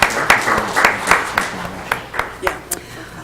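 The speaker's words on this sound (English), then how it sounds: "let's have a round of applause for the demonstration of safety at" Scattered applause at a school board meeting, a few distinct hand claps spaced irregularly rather than a full crowd ovation, fairly close and thinning toward the end.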